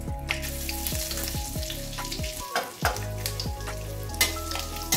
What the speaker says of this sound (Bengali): আমি কড়াতে শুকনো লঙ্কা, তেজপাতা, দারচিনি, এলাচ আর সাদা জিরে ফোড়ন দিয়ে দিলাম।